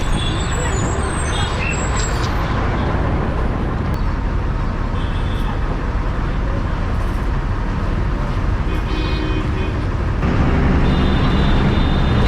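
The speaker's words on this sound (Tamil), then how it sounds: "இப்போ பஸ் நிற்க போகிறதாங்க" A Chennai city bus on route 11G rumbles steadily through traffic as it pulls in to a stop, with engine drone and road noise filling the cabin and a voice speaking over it.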